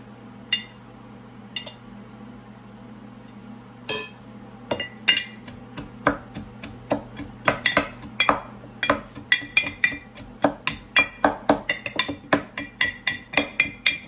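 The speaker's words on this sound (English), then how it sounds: "I'm going to be pounding it down with a wooden spoon to help it release more of the liquid." Wooden spoon repeatedly pounding shredded cabbage down into a glass jar for dill sauerkraut, a steady run of sharp knocks and clinks that starts sparse and quickens into a dense rhythm, close and clear with no talk.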